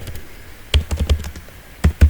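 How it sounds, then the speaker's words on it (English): Keys clack on a computer keyboard while an SQL query is typed, a few quick bursts of clicks with short pauses between, close and fairly loud with no talking. "Here I am typing"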